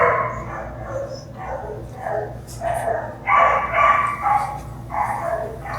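A dog whines and yips in short, close bursts, growing louder toward the end over a low background hum.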